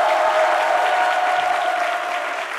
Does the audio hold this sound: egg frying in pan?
no